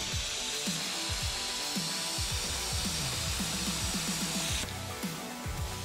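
A Harbor Freight plasma cutter slicing through stainless steel, a loud continuous hissing roar that ends abruptly near the end, leaving a quieter hum.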